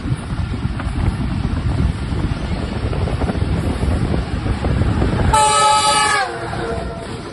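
A GV40 diesel locomotive, number 9012, hauls the Karachi Express past with a steady heavy rumble and clatter, buffeted by wind noise, then a loud horn blast sounds near the end.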